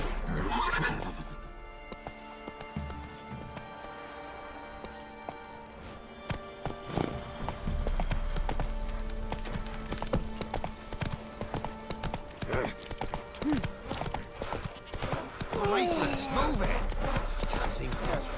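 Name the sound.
horse Roach galloping in The Witcher 3 video game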